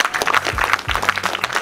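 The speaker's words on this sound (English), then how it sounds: "I think they deserve a round of applause for that." Film festival audience applauding after a screening, close and lively clapping with uneven bursts, plus a couple of low thumps partway through.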